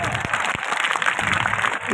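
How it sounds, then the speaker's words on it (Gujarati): Brief burst of clapping from a group gathered for a daughter's farewell ceremony, a dense, even patter of many hands close by with crowd murmur underneath. "મારા માટે એક તાળી તો ગડગડાટી બોલાવો"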